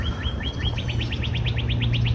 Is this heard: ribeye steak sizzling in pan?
no